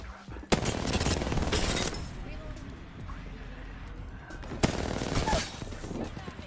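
Loud bursts of gunshots from the video game Apex Legends, with a long rattling volley at the start and another sharp burst near the end, over steady background game noise.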